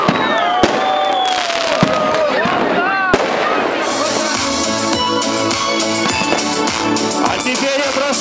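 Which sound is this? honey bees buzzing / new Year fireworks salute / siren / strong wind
new Year fireworks salute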